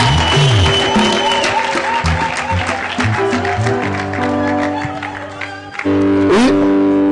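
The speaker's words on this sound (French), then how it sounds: "Applaudissez." Applause from a church gathering greets the mothers, mixed with loud music, sustained tones and melodic lines running throughout, with a sharp swell near the end.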